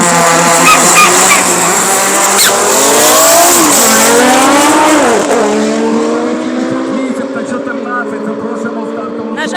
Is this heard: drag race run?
yes